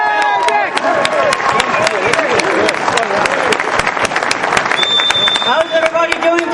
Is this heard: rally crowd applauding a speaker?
yes